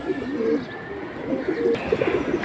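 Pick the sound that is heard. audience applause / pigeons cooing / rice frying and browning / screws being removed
pigeons cooing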